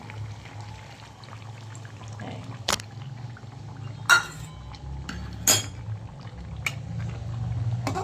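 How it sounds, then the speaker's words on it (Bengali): Hot water poured into a pot of chicken curry with coriander leaves, a soft steady pour and bubbling under a few sharp clinks of metal utensils against the pot. "করে আমি এবার এটা মাংসের মধ্যে ঢেলে দেবো।"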